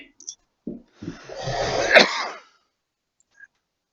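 A few quick, sharp inhales build into a single loud, explosive sneeze close to the microphone, followed by quiet.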